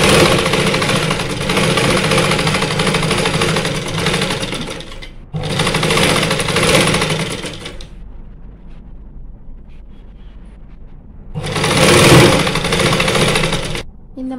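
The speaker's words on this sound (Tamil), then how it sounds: "இந்த ஓரத்துலேயே ஒரு 1/2 இன்ச் கேப்பில் தைக்கணும்." A sewing machine stitches the lining of a blouse, running in three loud bursts of rapid whirring, near and close, with quiet pauses between runs.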